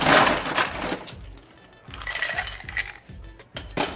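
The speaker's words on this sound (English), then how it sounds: "And we're going to add some ice." Ice dropped into a cocktail glass holding tequila and cherry liqueur, giving bright glassy clinks and rattles, loudest at the start and then returning in a second cluster of knocks, close by with no talking.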